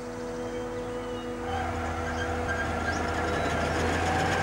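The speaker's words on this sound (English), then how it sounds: "As the forager drives along, it chops up the grass and blows it out through the spout." A forage harvester chopping grass and blowing it out of its spout into a trailer drawn by a red tractor, giving a steady, loud mechanical drone with a whooshing rush that builds after the first second and holds.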